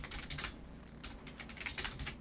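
Quick, light clattering of keys on a computer keyboard while writing code, irregular bursts of clicks at a quiet, close level with brief pauses between runs.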